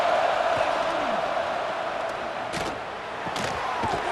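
A stadium crowd cheers in EA Sports College Football 26 during a Notre Dame versus Texas game, a steady dense roar of many voices that stays loud throughout, with a few sharp claps and thuds rising above it.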